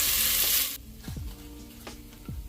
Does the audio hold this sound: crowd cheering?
no